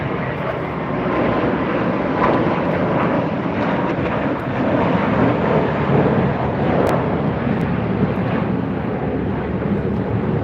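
A Boeing 787 Dreamliner jet at Los Angeles airport gives a steady, loud, broad engine roar that holds close and constant throughout.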